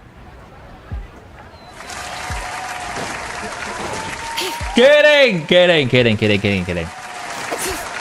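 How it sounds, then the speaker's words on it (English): Applause sounds in a video game, crowd clapping that rises partway through alongside game effects and tonal cues, with a person talking over it. "Why is there more applauding?"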